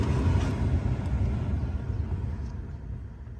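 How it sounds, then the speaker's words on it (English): A low, steady whooshing rumble of the climate control fan blowing inside a 2013 Hyundai Veloster, broadband and constant, gradually easing slightly in loudness. "Now the fan's on."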